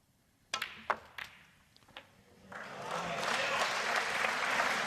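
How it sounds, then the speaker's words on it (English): A snooker crowd at the Australian Open final starts with a few scattered sharp claps, then swells into sustained steady applause filling the hall, moderately loud without talk. "Crowd finding their voice as well"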